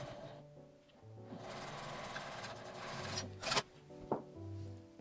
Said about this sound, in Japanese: 端をミシンで縫います。